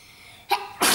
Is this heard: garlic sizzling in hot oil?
no